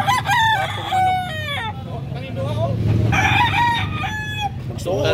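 A rooster crows several times in close succession at a poultry sale in Cebu, loud and near, with people talking faintly in the background.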